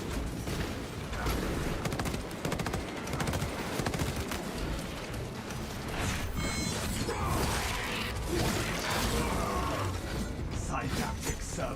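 Pistol gunfire in the Space Marine 2 video game: rapid, repeated shots packed into a dense, continuous wall of game noise, with mechanical clatter and voices mixed in throughout.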